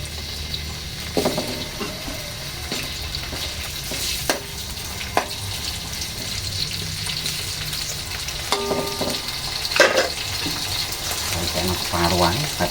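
Salted fish frying in a home kitchen, a close, steady sizzle and crackle with occasional stirring clinks and scrapes of a utensil, running continuously at moderate loudness.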